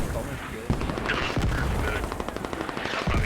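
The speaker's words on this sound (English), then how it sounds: "The mortars and machine gun fire just causing a pile up right up the fob" Machine gun fire in an infantry video game battle, with mortars in play, rattles in rapid continuous bursts over a dense roar of distant gunfire and explosions.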